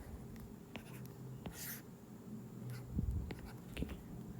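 Pen strokes scratching on paper in short, separate bursts as a graph is drawn by hand, quiet and close, with no talking.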